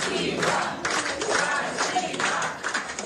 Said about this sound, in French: Elle s'est tout de même fait applaudir à la sortie du tribunal